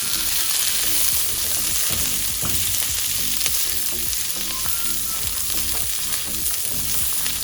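Onion and carrot sauté in a hot pan for kung pao chicken, a steady loud sizzle broken by a regular rhythm of stirring scrapes, close up with no talk.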